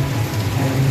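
Steady rain falls over Solapur city on an evening after a long dry spell, a dense, continuous hiss with a low rumble underneath, even and unbroken throughout.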